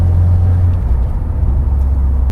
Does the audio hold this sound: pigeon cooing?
no